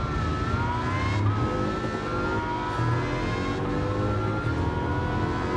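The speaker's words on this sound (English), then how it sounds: "Then the Valkyrie takes over with noise." Aston Martin Valkyrie engine in a racing video game roaring continuously, loud and close, with high-pitched rising tones repeating in waves.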